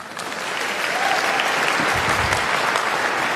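A debate audience in a hall breaks into warm, sustained applause, a dense wash of clapping that swells quickly and holds steady for a few seconds.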